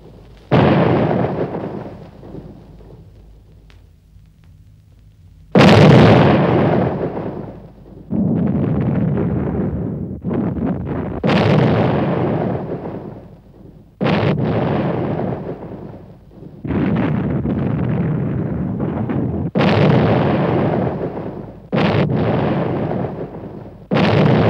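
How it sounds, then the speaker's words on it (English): Repeated heavy booms of German long-range cannon fire on the Dover area, about a dozen blasts at irregular intervals, each a loud rumbling report with a long decaying tail. "the Germans have placed long-range cannons which hit the Dover area"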